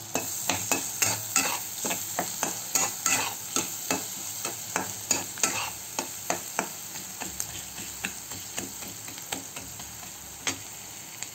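Crushed garlic fries in a pan in a village-style mushroom dish, a soft sizzle under a steady rhythm of spoon scrapes and taps against the pan, repeating roughly every half second, with no voices.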